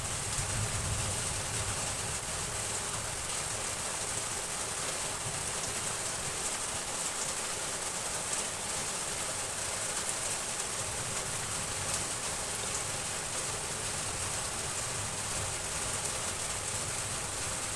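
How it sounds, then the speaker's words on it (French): Steady rain from a weak thunderstorm pours down in a continuous hiss, with no thunder or voices audible. "Allez, un peu plus de pluie."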